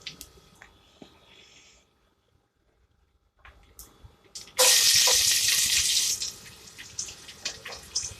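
Chopped ginger and garlic hit already hot oil while cooking fish majboos, bursting into a loud hissing sizzle after some quiet handling sounds. The sizzle then settles into a softer, crackling fry.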